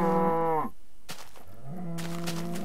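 Bleating sheep in the video game Minecraft, a few drawn-out, wavering animal calls heard clearly and alone, separated by short gaps.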